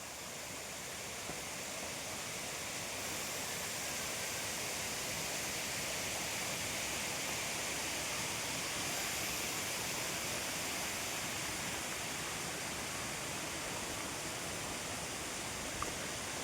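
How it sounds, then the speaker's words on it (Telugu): Dara Mattam waterfall near Narsipatnam pours down in a steady, even rush of falling water, constant and moderately distant with no voices over it. "ఇక్కడ నుంచి పైనుంచి జలధార అలాగా వస్తూ ఉంటుంది"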